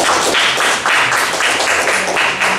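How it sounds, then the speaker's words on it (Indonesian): Brisk clapping from a room of people applauding a pastor at a scripture course, dense and loud throughout with rhythmic swells, and no voices over it. "Kita mau beri tepuk tangan lagi."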